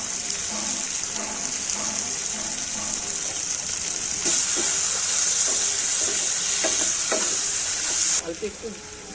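Pointed gourd (potol) stir-fried in hot oil, a loud continuous sizzle with repeated spatula scrapes, the hiss swelling midway and easing off at the end.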